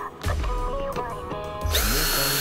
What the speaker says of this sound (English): I've been using a power tool.